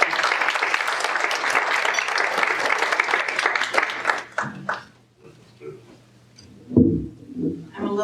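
A speaker-series audience breaks into lively applause that holds for about four seconds, then fades to scattered claps and quiet before a voice starts speaking.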